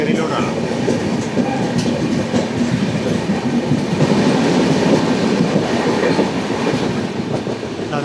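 Hubballi-Hyderabad Express rolling along the rails, a continuous loud rumble with clickety-clack wheel rhythm, heard steadily from inside the moving train.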